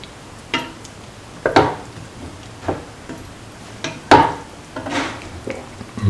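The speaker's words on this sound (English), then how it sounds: "mix under low flame" Yogurt being stirred into frying ginger potato rice in a pan over a low flame, heard as a handful of separate scraping and clinking strokes with quiet gaps between them.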